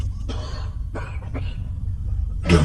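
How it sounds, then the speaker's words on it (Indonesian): Someone coughs repeatedly in harsh, strained bursts at irregular intervals. Each bout is followed by a louder, rougher cough, and a low steady background hum sits underneath. "terdengar ada suara orang yang batuk-batuk"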